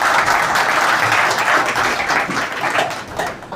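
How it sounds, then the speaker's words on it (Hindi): Loud, sustained applause from a seated crowd at an Indian women's empowerment award ceremony greets Anuj Bhati, many hands clapping in a thick continuous patter that eases slightly toward the close. "तालियां अनुज भाटी के लिए हो जाए।"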